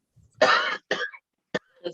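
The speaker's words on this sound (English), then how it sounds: "I got a cough." A single close cough, followed by a few shorter coughing bursts and a throat clear, with no talking.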